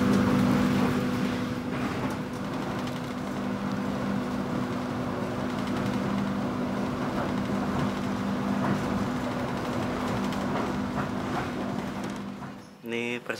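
Mutiara Selatan train rolling along the rails, a steady loud rumble with droning hum that holds throughout and cuts off near the end.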